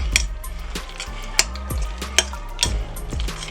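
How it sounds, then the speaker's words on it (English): Macaroni ham salad is mixed with sweet pickle relish, giving soft, wet squelching and scraping from a utensil in a bowl, with a few sharper knocks, close and continuous. "We're going to mix that in just a little bit."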